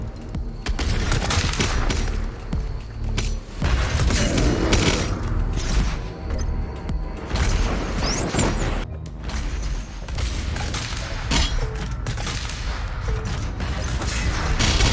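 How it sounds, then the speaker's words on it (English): Doom Eternal armor shard pickup effect overlapping itself many times at once at high frame rate, forming a loud, dense, crunchy burst of metallic clatter that runs continuously with heavy low rumble and gunfire-like impacts throughout. "having a higher FPS can produce that loud, crunchy armor pickup sound when you pick up a ton of armor at once"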